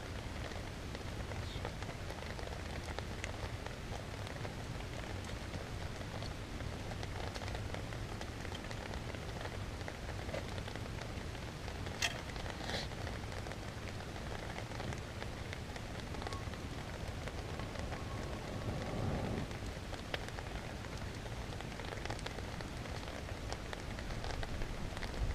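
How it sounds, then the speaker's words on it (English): Rain falls steadily outdoors at a survival camp, a soft, even patter on surfaces with occasional louder drops, faint and continuous throughout with no talking. "Here comes the rain again."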